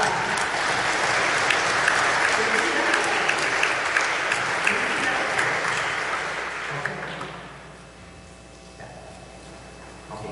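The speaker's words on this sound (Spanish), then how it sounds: "Tenemos un aplauso por aquella." Church congregation at a Sunday Mass applauds steadily, a full, even wash of clapping filling the room for about seven seconds before fading away to quiet.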